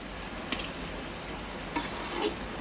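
Rati kaya, or stone vegetables, frying in a pan over a low flame, giving a steady, close hiss of oil with a few light stirring taps.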